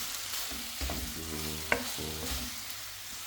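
Beef soaked in a little vinegar sizzles and gets stirred in a pan for kaldereta, a soft steady fry with a few scraping stirs and one sharp utensil clink on the pan.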